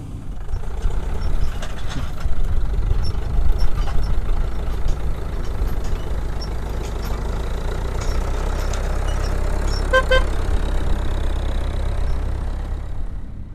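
A tractor pulls a nearly full grain trailer during harvest combining on a hot, sunny, breezy day. Its engine gives a steady, loud, low rumbling drone that runs unbroken from start to end, with no talking.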